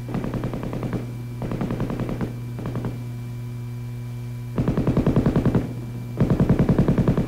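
An M60 7.62 mm gas-operated, belt-fed machine gun firing several rapid bursts of rhythmic, evenly spaced shots, separated by brief pauses, over a constant electrical hum from an old film soundtrack.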